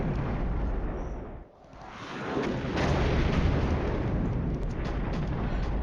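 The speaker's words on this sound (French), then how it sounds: "On est sur le duel d'artillerie." Artillery fire in the Cold War video game Flashpoint Campaigns: Cold War plays as a dense, continuous rumble of booming blasts, loud and sustained with a brief dip midway.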